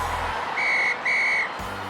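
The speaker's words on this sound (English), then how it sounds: "And that's the final whistle." A referee's whistle blows the end of a football match, two sharp, loud blasts close together, each about half a second long, over steady background noise with no talking.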